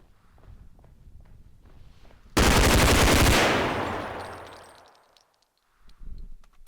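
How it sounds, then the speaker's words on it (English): In the video game BodyCam, quiet footsteps shuffle before a sudden, very loud gun blast with a rolling tail that slowly fades, followed by more soft footsteps. "The eerie quietness while stalking around the map and then the sudden loud gun blast that sounds impactful is great."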